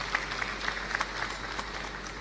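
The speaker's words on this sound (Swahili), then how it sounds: "Naomba nikutambue kwa makofi yetu tafadhali." Scattered applause from an event audience at an investment summit gathering in Micheweni, Pemba, Zanzibar: light, thin clapping heard somewhat distant and faint, with a few sharper claps standing out over a soft crowd murmur.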